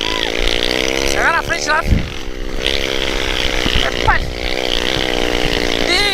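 A small motorbike riding on sand dunes near a cave keeps up a loud, close engine drone that rises and falls as it revs. A voice briefly calls out over the engine.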